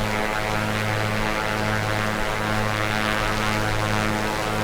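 A Piper Comanche 250 single-engine propeller plane, simulated in Microsoft Flight Simulator, drones steadily at cruise. The engine hum and propeller buzz stay loud and constant, with no voices.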